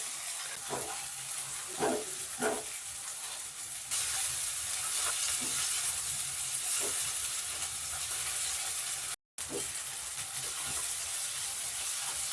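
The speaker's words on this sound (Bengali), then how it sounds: "চর্বিটা হালকা হালকা করে আমি নেড়ে নেড়ে কষিয়ে নিচ্ছি" Mutton fat fries in a pan for mutton ghugni under a steady, close sizzle, with occasional soft scraping stirs breaking through.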